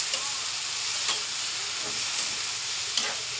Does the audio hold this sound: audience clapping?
no